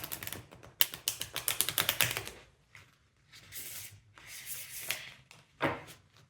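A deck of tarot cards being shuffled by hand at close range: rapid, crisp riffling clicks in a dense burst, followed by softer sliding and rubbing passes and one more sharp flurry.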